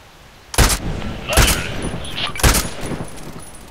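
Gunfire in the online shooter Contract Wars, during sniper and assault play: three loud, sharp shot bursts about a second apart, each trailing into a rattling echo, with a voice faintly underneath.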